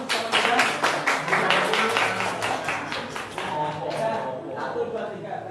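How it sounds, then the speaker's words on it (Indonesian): Classmates in an Indonesian senior-high classroom clap together in a lively burst of applause that is dense at first and then thins out, with voices chatting over the clapping toward the end. "Oke, kita tepuk tangan, berikan tepuk tangan sama-sama."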